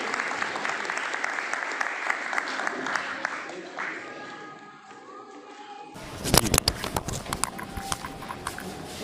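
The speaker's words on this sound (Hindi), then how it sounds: "जोरदार तालियों से सृष्टि वासु और बुलबुल का" Audience applause at a school function greets two young performers arriving to sing a welcome song; a dense wash of clapping fills the first seconds, thins out, then gives way to sharper, scattered claps and clatter.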